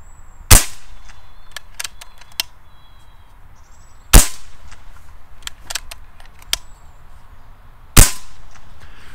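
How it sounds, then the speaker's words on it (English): A Reximex Myth multi-shot PCP air rifle fires three sharp, loud shots several seconds apart, with lighter metallic clicks from the side lever being cycled between the shots. "you can just cock it easy with the side lever whilst it's in the shoulder"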